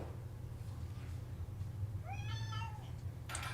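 A cat gives a single clear meow, close and fairly quiet, over a low steady background hum, followed by a brief rustle.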